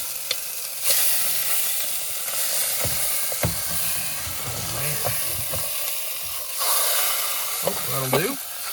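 Food sizzling in a pan on a single-burner stove inside a small camper van, a steady frying hiss with occasional scrapes and stirring clatter, close by, no talking.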